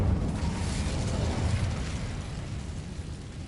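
Incendio fire spell cast in Hogwarts Legacy, a steady roaring whoosh of flame with a rumbling low end, loud and sustained for several seconds before easing slightly, no talking over it.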